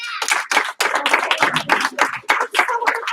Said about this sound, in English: Give one clap. 2 stomps.